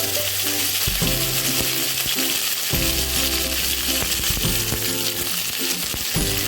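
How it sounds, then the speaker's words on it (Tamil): Curry leaves dry roasting in a pan for a Tamil lentil powder, a steady loud dry sizzle and crackle throughout with repeated scraping stirs and light clinks, no voices. "இப்போ நம்ம கருவேப்பிலையே வறுத்துக்கலாம்."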